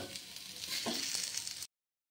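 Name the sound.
frying vegetable stems and potatoes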